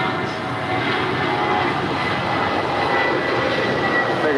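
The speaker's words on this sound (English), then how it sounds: "That was American 1270 departing to Phoenix. It's a 21-year-old Airbus A320." A 21-year-old Airbus A320, American flight 1270 bound for Phoenix, taking off at LAX, its jet engines giving a steady, broad roar that holds evenly at moderate distance.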